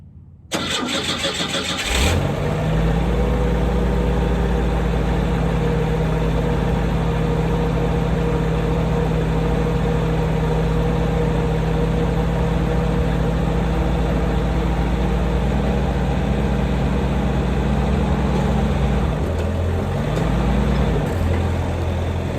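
A 2.5-litre car engine cold-starts with a quick crank that catches into a loud, steady idle, then holds a low, even drone close by. No one speaks.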